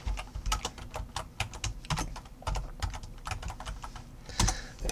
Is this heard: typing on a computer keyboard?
yes